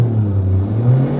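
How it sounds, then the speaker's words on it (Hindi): A Tata Harrier engine running just after a bearing replacement gives a steady, smooth, low hum, close and brief. "स्टार्ट किया मैंने और यहाँ से एक्सीलेट कर रहा हूँ मैं गाड़ी"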